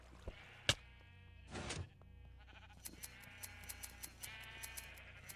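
Sheep bleating in the block-building game Minecraft, a single clear bleat standing out amid sparse clicks and knocks, followed by a series of short regular taps, all fairly faint and without talk.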